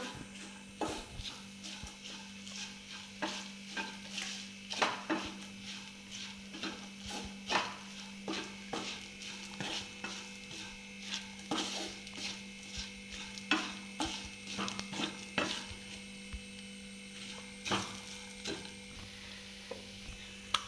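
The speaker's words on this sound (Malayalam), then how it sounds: "അതും അതിൻ്റെ കൂടെ നല്ലതായിട്ട് കൂട്ടി ഇളക്കി എല്ലാം കൂടി ഒരുമിച്ച് ഇളക്കണം" Grated coconut is stirred into a prawn chutney mixture with repeated soft scrapes and knocks of a utensil against the pot over a faint low hum, with no one speaking.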